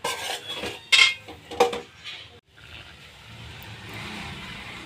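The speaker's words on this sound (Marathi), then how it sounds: "आपल्याला ह्या शेवड्यात मस्तपैकी एकत्र करून घ्यायच्या" Vermicelli being stirred and sautéed in a pan, with a few sharp metal spoon scrapes and clinks against the pan followed by a steady low frying hiss, close and without talk.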